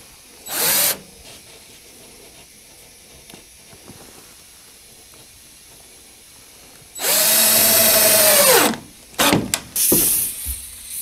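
A power drill driving screws into lightweight shelving in a tool storage area, with a brief whir followed by a longer loud whine that winds down, then a few short bursts, close and without talk.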